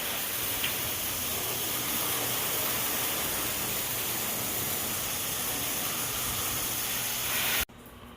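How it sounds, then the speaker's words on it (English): A garden hose sprays water to rinse down a combine, a steady, close hiss of spray that runs without a break for about seven and a half seconds before cutting off abruptly. "I'm just going to use the hose because it's easier than switching the power washer back and forth."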